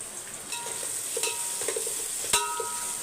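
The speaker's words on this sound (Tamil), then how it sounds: "வெங்காயம் வந்து நல்லா வதங்கட்டும் இந்த பக்கம் தக்காளி வதங்கி வரட்டும்" Onions and tomatoes sautéing in a pan for mutton dishes, a steady close sizzle with intermittent stirring scrapes and one sharp metallic knock near the end.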